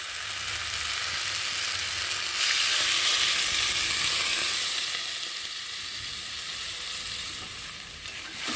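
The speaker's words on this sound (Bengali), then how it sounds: "আর এখন আমি পরিমাণ মতো জল দিয়ে দেবো।" Spiced soybean and pointed gourd curry sizzling in a gas-stove pan, a steady bright hiss that swells as water goes in, then settles into a softer bubbling fry, close and without talk.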